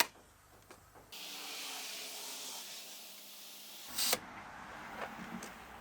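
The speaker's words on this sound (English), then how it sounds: "So we'll put some air in the tires." Air being pumped into car tires on a road trip, heard as a steady hissing rush lasting several seconds, close and fairly quiet, followed by a brief sharp burst of hiss and then faint handling noises.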